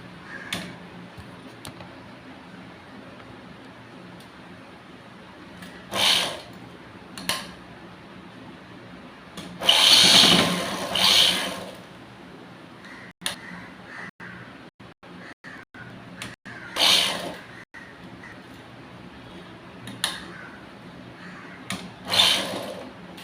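A sewing machine stitches a princess-style blouse in short intermittent runs, each burst of whirring separated by quieter pauses with small handling clicks.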